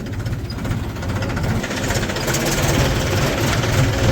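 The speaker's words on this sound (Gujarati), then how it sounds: "હાલો મિત્રો આપણે ડુંગળી વાવવા જાય છે ટ્રેક્ટર આવી ગયું છે" A tractor engine idles nearby before onion planting, a loud low chugging rumble with a steady knocking rhythm that holds even throughout.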